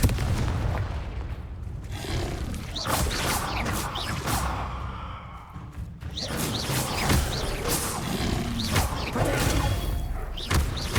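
Hogwarts Legacy combat with the Confringo fiery blast spell, a run of heavy thumping booms and crackling impacts striking close in quick succession, pausing briefly midway before more blasts follow.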